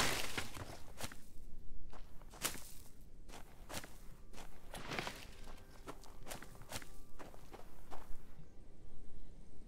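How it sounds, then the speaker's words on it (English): Footsteps in the survival video game The Front, a steady run of near crunching steps with regular rhythm, fairly loud and alone with no talk. "I keep hearing like feels like footprints,"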